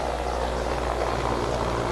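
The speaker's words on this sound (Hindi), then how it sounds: "आप आवाज भी सुन पा रहे हैं चॉपर की कि कितना नीचे ये हेलीकॉप्टर उड़" A helicopter flies low overhead through thick fog, its steady rotor throb and engine drone filling the air loud and continuous, with no voices.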